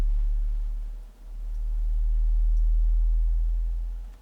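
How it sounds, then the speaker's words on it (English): A deep, low synthesizer tone hums steadily, swelling and dipping once in the middle, alone with no other sounds. "And it's just a normal FM synthesizer."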